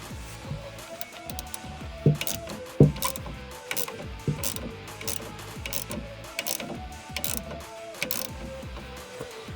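Ratchet wrench clicking steadily while tightening the Old Man Emu Dakar heavy-load rear leaf spring on a 2005-2021 Toyota Tacoma with the truck's weight on its springs, close up, with repeated bursts of pawl clicks and a few louder metallic knocks.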